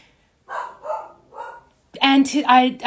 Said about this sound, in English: Hopefully my dog will stop barking in a second.